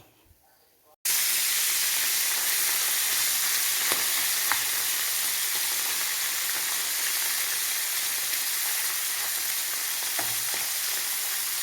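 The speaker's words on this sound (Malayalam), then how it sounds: "ഇപ്പോൾ തിളച്ച എണ്ണയാണ്." Dried fish for pickle frying in boiling oil in a pan: after a second of near-quiet, a loud, steady, close sizzle starts and runs on with occasional clicks of stirring.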